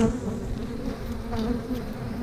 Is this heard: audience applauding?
no